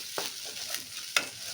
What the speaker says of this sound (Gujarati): બધું સરસ સાતળી લઈએ આપણે પહેલાં.